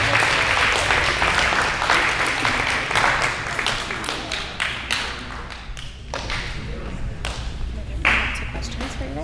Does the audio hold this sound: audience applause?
yes